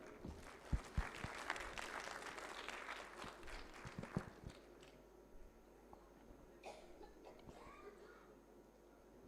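A hall crowd at the Smart India Hackathon 2025 valedictory session applauds the participants, a dense burst of clapping that fades over several seconds into quieter room noise.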